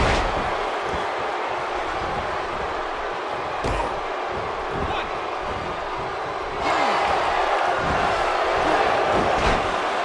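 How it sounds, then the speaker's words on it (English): Crowd in a WWE 2K17 wrestling game arena, a steady, loud buzz of many voices with a few sharp thuds, swelling slightly louder in the last few seconds. "The crowd is buzzing."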